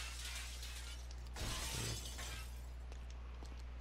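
Glass shattering in the GTA V video game, a short sharp crash with tinkling fragments that breaks through a steady low hum and ambient game noise.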